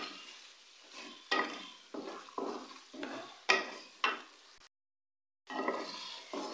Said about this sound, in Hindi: मसालों को हम लोग चिकन में अच्छी तरह से मिक्स करेंगे